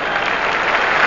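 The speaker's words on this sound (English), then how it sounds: "You can hear their applause in the background," Football crowd at a 1991 AFL match between Adelaide Crows and Hawthorn, applauding in a steady, dense wash of clapping and cheering that carries on without a break.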